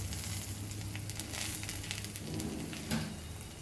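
Chilies and hing frying in hot oil for masoor dal khichdi, a faint steady sizzle with soft crackles and occasional pops throughout.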